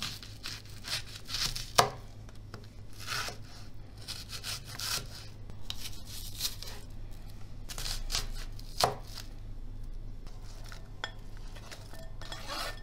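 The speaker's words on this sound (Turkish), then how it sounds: "Üçüncü ve son soğanımı da doğrayacağım." Steady knife chopping of onions on a cutting board, rapid repeated taps with occasional louder knocks, close and clear with no talking.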